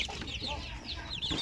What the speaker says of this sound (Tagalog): Napakaganda nitong mga manok na ito.